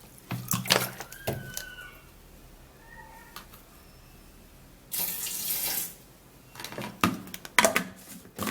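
Running water from a tap pours into a blender in bursts with clinks and handling noises between, a longer steady stream in the middle, close by.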